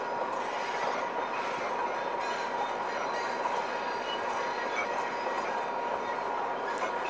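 Steady, continuous rumble of a video-game Amtrak passenger train running at over 90 mph, with rail noise and faint squeal, loud and unbroken throughout.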